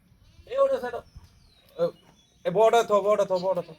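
Totapuri goats at a farm bleat in loud, close bursts: a wavering call, a short one, then a long quavering bleat.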